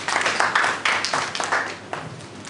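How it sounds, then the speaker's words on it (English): An audience at a foundation's survey presentation bursts into applause, a close, steady patter of many hands clapping that carries on for a couple of seconds before beginning to thin out. "Please, another round of applause for him"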